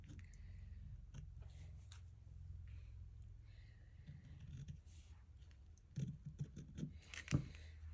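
Scissors trim ribbon ends in a few faint, close snips and soft rustles, growing a little busier toward the end, quiet and without speech.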